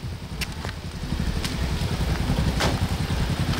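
A motorcycle putting along with a steady low engine rumble as it pulls in to park at an outdoor party, idling evenly throughout, with a sharp louder burst at the very end.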